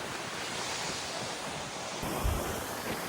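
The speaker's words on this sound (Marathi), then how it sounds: "ते समुद्राच्या लाटांचा आवाज वगैरे जाम भारी वाटतोय" Sea waves wash along the Konkan coast near Dapoli on a cool monsoon day, a steady broad roar of surf with wind buffeting the microphone and a brief louder rumble near the end.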